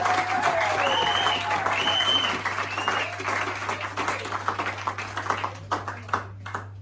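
A church congregation bursts into applause with cheering voices at first, then the clapping thins into scattered, uneven claps that trail off toward the end.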